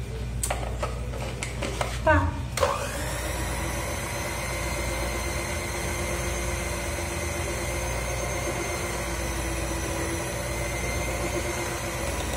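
Low carb bread dough mixed briefly in a blender, a steady motor whir that runs on after a few quick clatters at the start, moderately loud and close, with a person talking.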